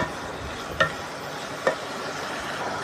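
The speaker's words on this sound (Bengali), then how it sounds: "পাঁচফোড়ন ও কাঁচা লঙ্কা ফোড়ন দিয়ে সবজিগুলোকে একটু ভেজে নিচ্ছি" Vegetables such as pumpkin, potato, pointed gourd and stems fry in oil with panch phoron and green chilli, giving a soft, steady sizzle broken by two light stirring clicks.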